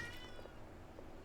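A cat meows once, brief and faint, over a quiet indoor room with garden-game play in the background.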